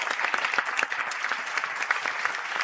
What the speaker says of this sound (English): please give both a round of applause to acknowledge their work